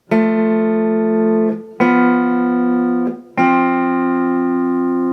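Three sustained electric guitar chords ring out one after another, each held for over a second before the next is struck.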